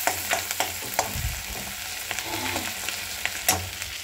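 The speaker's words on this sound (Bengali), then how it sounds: "মাছের তেল আর ডিম ভাজা করছি পেঁয়াজ আর লঙ্কা দিয়ে।" Fish oil and egg fry in a wok with onion and chili, sizzling steadily while a spatula taps and scrapes in short irregular strokes, close up and with no voices.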